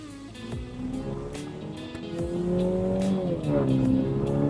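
A Mini Cooper GP engine revs hard under acceleration, the note climbing steadily and growing louder, with gear-change dips and a strong continuous drone heard close from inside the car.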